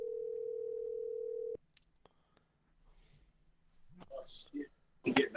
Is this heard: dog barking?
no